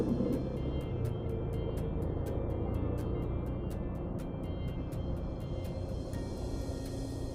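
Steady peak-hour road traffic in Coimbatore drones on with engine rumble and passing vehicles, and a faint rapid ticking runs throughout.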